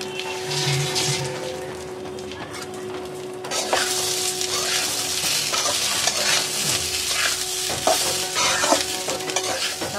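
Gobindobhog rice coated in ghee, ginger paste, turmeric and garam masala fries in a pot for Basanti pulao, a steady close sizzle with scraping stirs and clinks throughout.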